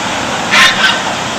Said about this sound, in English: throwing duck food to the ducks